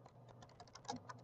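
Quick light keystrokes on a computer keyboard, about a dozen soft clicks in an uneven run, close and faint.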